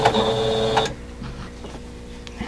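A sewing machine stitches quilt block pieces with a quarter-inch seam, a steady fast whirring run for under a second, then stopping to faint handling ticks and quiet room noise.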